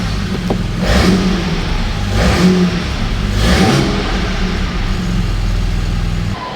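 A Ford EF XR6 race car engine idles close by with a low, steady rumble, swelling in three revs one after another before settling back to idle.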